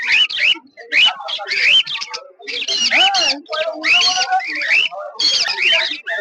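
Red-eye lemon budgerigars at the Uluberia bird market chatter in dense, overlapping bursts of high, warbling chirps that run almost without pause, close and fairly loud.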